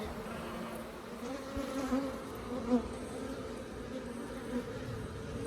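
Africanized hybrid bees hum inside a top bar hive, a soft, steady buzzing close by, with a few individual insects briefly rising louder as they pass.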